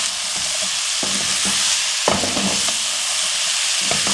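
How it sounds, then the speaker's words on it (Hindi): Mashed boiled potatoes sauté over low flame in a pan: a continuous close sizzle broken by repeated scraping stirs of the spatula, with no voices. "अब इसको हम 1 से 2 मिनट के लिए भून लेंगे।"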